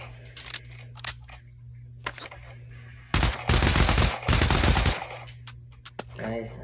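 Gunfire from the VR shooter game Pavlov played on a Quest 2, a dense burst of loud shots in the middle after scattered single clicks and quieter game sounds, with faint voice-like sounds around it.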